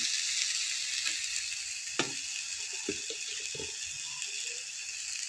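Tomatoes sizzle and fry steadily in a pan as spice powders such as chilli, pepper and turmeric go in, a continuous close hiss broken by a few soft clicks of stirring, with no one speaking.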